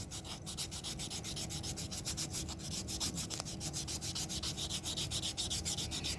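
Fast, steady rhythmic rasping of a 180-grit file across acrylic nails, close and continuous with even back-and-forth strokes and no talking.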